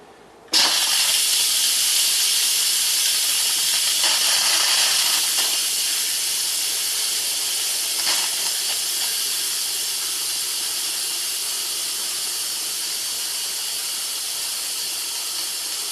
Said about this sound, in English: stand back when you open the pressure valve because it will spray steam all over.